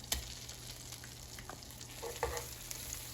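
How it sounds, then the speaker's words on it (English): Four cloves of minced garlic dropped into melted butter for hibachi vegetables give a soft, close sizzle, steady and fairly quiet with a few light crackles and a clink. "here's 4 cloves of minced garlic."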